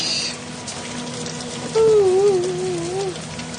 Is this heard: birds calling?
no